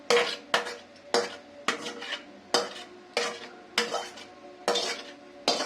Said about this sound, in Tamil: கலந்து விட்டு நல்லா ஸ்ப்ரெட் பண்ணி விட்டுடலாம்.